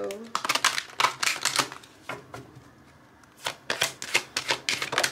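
Tarot cards shuffled in quick crisp bursts, close and fairly loud, with rapid riffling clicks in two runs split by a short pause.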